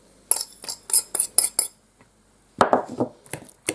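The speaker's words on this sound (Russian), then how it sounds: "Так, это все размешаю. Все это размешиваю." Spoon clinking against a bowl while stirring a pie dough mixture in a village kitchen, a quick run of bright metallic taps, a short pause, then another burst of scraping clinks, close and clear.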